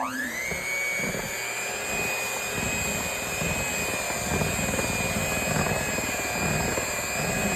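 An electric mixer runs at low speed through strawberry cake batter, a steady close motor whine and hum that holds without a break.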